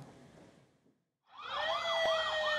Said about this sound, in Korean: 요란한 사이렌 소리를 울리며 구급차가 줄지어 이동합니다.